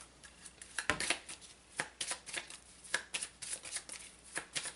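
Tarot cards are shuffled by hand in quick repeated riffles and slaps, close and crisp, in bursts that run through the whole stretch with no talking.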